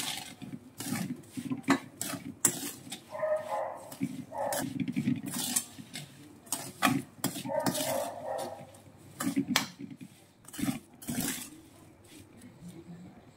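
A spoon mixes green chilli pickle with lemon juice in a bowl, producing repeated close clinks, taps and scraping sounds in an irregular stirring rhythm.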